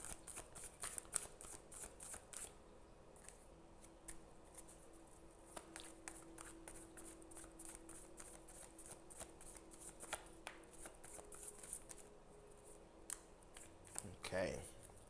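Tarot cards are shuffled by hand in quick, soft riffling and patting bursts, close and quiet, repeating throughout with brief pauses.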